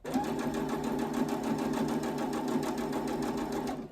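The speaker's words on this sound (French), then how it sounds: "Donc, j'augmente la vitesse de ma machine ou j'appuie un peu plus sur la pédale." A sewing machine stitching fast as the foot pedal is pressed harder, a rapid, even mechanical whirr with a regular ticking rhythm running steadily and close before stopping.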